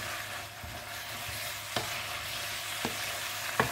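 Pork belly, bamboo shoots and red curry paste stir-fried dry in a pan, a steady sizzle with a few sharp spatula scrapes standing out, close and alone with no talk.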